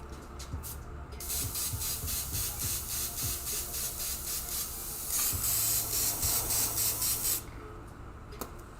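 An airbrush sprays Hot Rod Sparkle Purple paint onto a panel in a steady close hiss, pulsing in short repeated bursts and ending in a few brief spurts.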